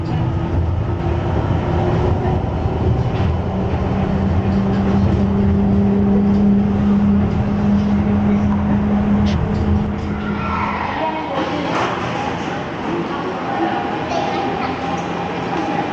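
A loud, continuous rumble and screech of a train moving along the tracks during a transfer from the New Tram to the Chuo Line, with a sustained metallic squeal and muffled talk mixed in.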